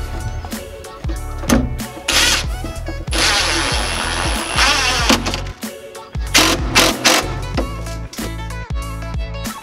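Special screws driven into a frame to fasten a custom comic book cabinet, a motorized tool whirring in repeated short bursts and one longer run, close and fairly loud, with no talking.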